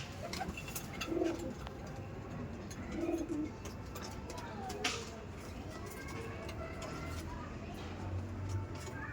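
Pet pigeons in a loft, including an Abluk, cooing in soft repeated low calls, a couple of distinct coos amid faint chirps and background hum, with someone talking intermittently nearby.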